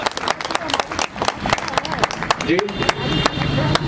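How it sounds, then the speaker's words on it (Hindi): An audience at a gathering in Noida claps in scattered, uneven bursts close by, mixed with crowd noise and a brief spoken word. "नहीं तो आप कहें तो ताली बजा दीजिए।"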